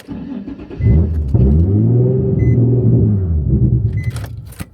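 A straight-piped Nissan 350Z fires up with a loud cranking burst, then settles into a deep, raspy, burbling idle that rumbles close and steady for several seconds.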